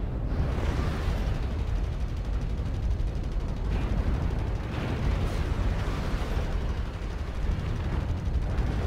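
A mech is destroyed in MechWarrior Online as a dense, continuous roar of explosions and heavy rumbling fills the whole stretch, loud and sustained without pause.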